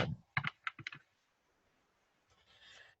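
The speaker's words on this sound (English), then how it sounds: "let's go ahead and shuffle" Tarot cards being handled and shuffled at close range: a quick burst of crisp riffling clicks and snaps at the start, a quiet pause, then a softer sliding shuffle toward the end.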